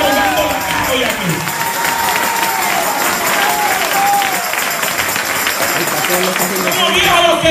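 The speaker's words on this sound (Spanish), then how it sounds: "Yo voy a volver a aplaudir" A church congregation claps and cheers during a lively worship service, sustained dense applause and crowd noise filling the space, with voices talking and shouting over it throughout.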